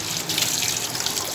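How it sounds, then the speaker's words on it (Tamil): Tap water gushes into a sink during washing, a close, loud, continuous splashing rush with no voices over it. "இது வாஷ் பண்ணிட்டு தண்ணி சவுண்ட் கேட்கும்"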